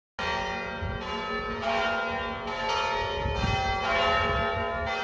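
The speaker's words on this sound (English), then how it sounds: "The bells rang for 3 minutes on May 3rd at dozens of parishes in our diocese as well." Church bells ring out in a repeated, overlapping peal, clear and resonant with long ringing tones.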